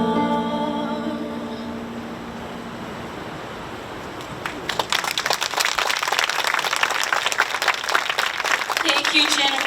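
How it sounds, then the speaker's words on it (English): Audience applause after a song at a memorial ceremony for the second anniversary of a comfort women monument; sustained clapping swells in after a quiet musical tail and continues loudly to the end. "Let's give her another round of applause"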